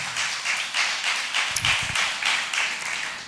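A worship gathering claps hands together in a steady, regular rhythm of repeated bursts, fairly loud and close, with no speech.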